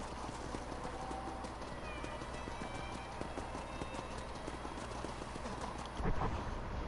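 Horse hooves clip-clop steadily at a walking pace in the Red Dead Redemption video game as a newly chosen horse is ridden around a ranch. The footfalls are moderately loud over constant ambient game noise, with a louder thump near the end.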